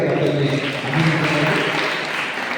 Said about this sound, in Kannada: ತಮ್ಮೆಲ್ಲರ ಜೋರಾದ ಚಪ್ಪಾಳೆಗಳನ್ನು